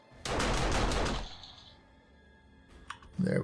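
An auto turret in the game 7 Days to Die fires a quick burst of rapid gunshots at zombies, loud and close, followed by a lull with faint clunks and a short thud.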